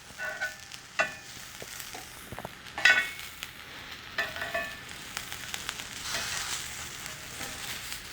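Food grills on a flat cooking surface with a soft, continuous sizzle, broken by occasional sharp clicks and taps from utensils, fairly quiet and close.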